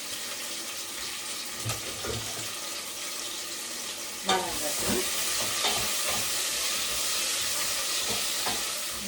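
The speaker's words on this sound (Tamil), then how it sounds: "இப்போ நான் இந்த வெங்காயங்களை வதக்க விட போகிறேன்." Onions frying in hot oil in a pan for a home egg curry, a steady broadband sizzle that swells louder midway, with occasional scrapes and stirring knocks from a utensil, no talk.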